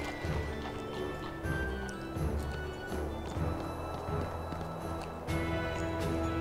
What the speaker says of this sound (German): Das ist nur ein ganz normales Pferd.